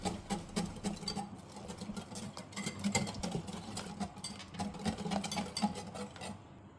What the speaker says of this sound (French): Je mélange avec constance jusqu'à obtenir une texture parfaitement lisse.